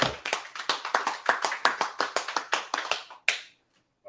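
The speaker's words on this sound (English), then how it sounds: "let's go ahead and clap it up." Hands clapping in a group, a fast and steady run of about seventeen sharp claps over three seconds, then an abrupt stop into near silence, with no talking.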